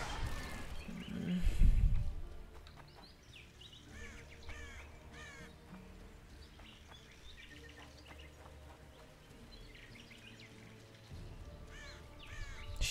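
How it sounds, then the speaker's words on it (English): Crows cawing in The Witcher 2 video game, a series of harsh calls scattered over the ambient game soundscape, fairly close, with a louder thud early on. "Shut up, bird."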